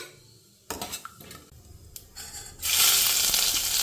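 Cumin seeds drop into hot oil in a pan and burst into a loud, steady sizzle after some clinks of a utensil against the pan, with no talking.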